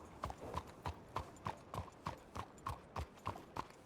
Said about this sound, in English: My beautiful horse.